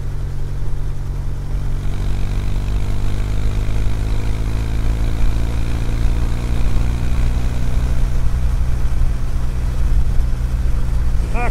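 Steady, loud exhaust drone from an air-cooled Kawasaki W800 motorcycle cruising in fourth gear on a highway, with the engine pitch slowly rising through the pass and wind rush underneath and no talking.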